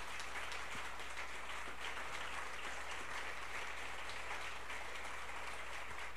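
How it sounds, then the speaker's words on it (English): An indoor audience applauding at a 2017 data science for social good reveal event, with steady, dense clapping from many people that is fairly distant and holds evenly throughout. "let's give a big applause to all of our three clients"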